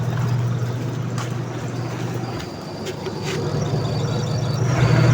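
An LG washing machine drum spins with a steady, loud motor hum and whirring that dips briefly midway and then builds again, while people talk over it.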